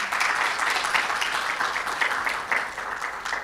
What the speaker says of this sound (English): I think you should clap him for that.